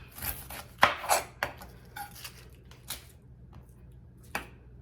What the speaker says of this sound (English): chop up this ginormous onion